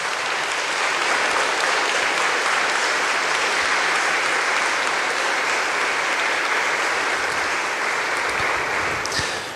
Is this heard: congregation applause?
yes